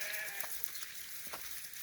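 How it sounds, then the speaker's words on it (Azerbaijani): A flock of sheep bleats faintly in the distance, its scattered calls thin against a quiet open-air background with no one talking. "qoyun sürüsü gedib"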